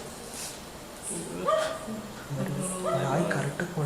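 A dog gives a few short, faint yips and whimpers amid soft talking in a quiet setting.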